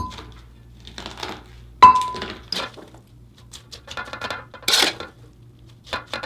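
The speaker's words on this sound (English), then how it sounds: "You can use this or the back of a spoon or your hands, but you want to pack your sauerkraut in tight." Sauerkraut packed tight into a stoneware crock with a wooden tamper: irregular pressing thumps and scrapes, with one sharp clink of the tool against the crock rim and a brief crunchy squeeze.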